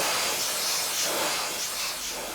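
A continuous, loud rush of blown air clears sanding dust off a hand-sanded woodturning piece, a steady close hiss with no pauses.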